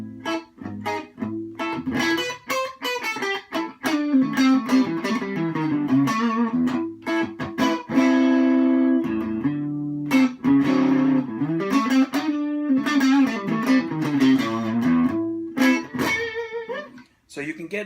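A 2001 Gibson SG Classic electric guitar with P90 pickups plays in a clean tone with the volume turned down. It rings out as a loud, continuous run of picked notes and chords without pause.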